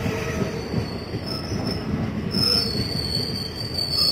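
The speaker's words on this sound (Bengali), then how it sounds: "ঢুকে গেছে আমাদের গরিব রথ এক্সপ্রেস।" A Garib Rath Express passenger train pulls into Nabadwip Dham station, its wheels squealing loudly and steadily over a low rolling rumble, close by and without speech.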